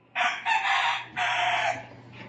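Hens from a Filipino backyard flock calling loudly nearby in two long, raspy bursts with a brief pause between them, close and clear with no talking.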